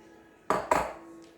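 Diced peach and watermelon pieces dropped into a bowl, two quick close clinks against the bowl in succession, followed by a short fading ring and a quiet room.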